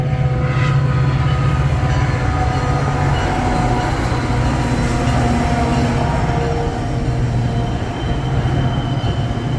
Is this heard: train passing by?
yes